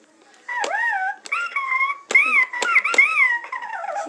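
A dog whines and whimpers close by in a string of high, wavering, yip-like cries with short pauses between them, with no talking over them.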